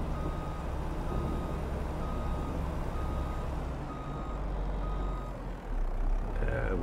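A truck hauling raw wood logs in Farming Simulator 22 rumbles steadily with a dense low engine drone, close and continuous, with a brief dip before the engine swells again.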